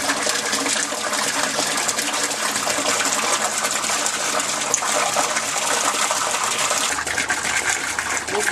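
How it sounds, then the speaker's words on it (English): Water rushes steadily as a backyard aquaponics grow bed siphon drains, a loud, continuous gushing flow up close with no talk. "The trickle starts and then the rush of water begins."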